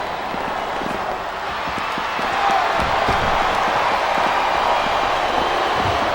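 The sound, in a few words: wrestling arena crowd chanting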